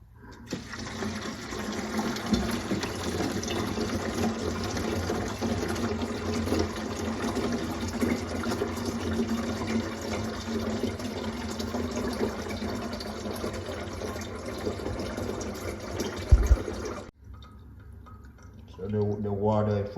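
Tap water running steadily into a one-gallon container, a continuous close rushing pour for most of the time, then a sudden stop followed by a brief trickle and faint splashing.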